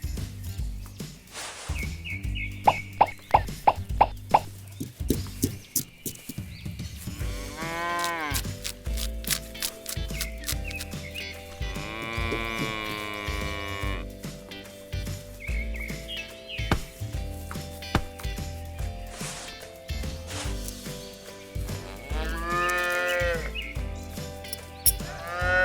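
Cows mooing around a miniature barn and farm, several long drawn-out lowing calls spread across the stretch with brief chirpy sounds between them, fairly close and clear with no talking.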